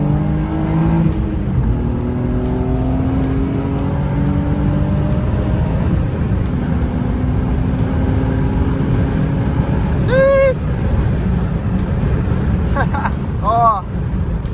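A car pulls hard up a highway on-ramp in second gear. The engine's loud, continuous roar climbs steadily in pitch as it revs, close and dominant throughout.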